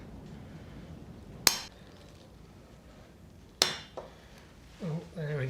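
Two sharp metallic taps ring out a couple of seconds apart as drifts and a small chisel are struck against a part during a Series Land Rover restoration, followed by softer clinks and brief voice-like murmurs.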